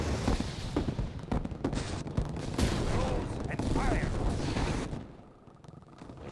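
Heavy, continuous gunfire and explosions from units in Red Alert 2, a loud sustained barrage with unit voices over it, fading near the end before picking up again.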